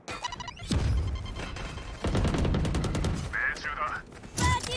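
Grenade blast in the video game Valorant, a loud explosive burst with crackling gunfire-like bangs following in rapid succession, mixed with other game effects and voices.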